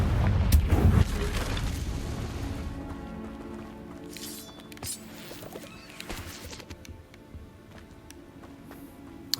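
A Confringo fire-blast spell from the video game Hogwarts Legacy erupts as one loud, low, booming explosion at the start, then fades into quieter in-game ambience with faint creature noises and soft tonal hum, without talking.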